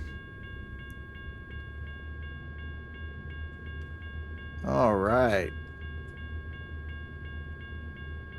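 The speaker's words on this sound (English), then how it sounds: "Oh, here comes a choo-choo train." In American Truck Simulator, a train rolls across a level crossing with a steady low rumble and a tonal ringing running throughout, and a warbling horn blast swells midway. A voice briefly speaks over it.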